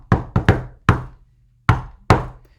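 Sharp knocks on a door in the familiar shave-and-a-haircut rhythm, five quick close raps, a pause, then the final two knocks.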